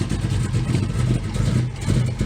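1969 Camaro V8 with a solid roller camshaft running after a quick start, a close, loud, lumpy low-pitched rumble with a choppy pulsing idle, no voices.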